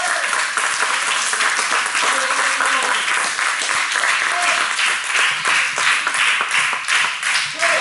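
A wrestling match crowd at a catch event applauds steadily, a dense wash of clapping that runs throughout with a faint pulsing rhythm, alone and fairly loud.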